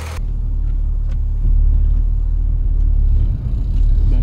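Volkswagen Golf MK2 idling and starting to roll backward, a steady close low engine rumble that swells slightly partway through and holds, with no speech.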